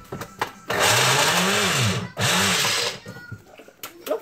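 An electric blender grinds ingredients for Korean napa cabbage kimchi in a home kitchen, running loud in two long bursts with a brief stop between, and the motor pitch sweeps up and down; faint voices are heard before and after.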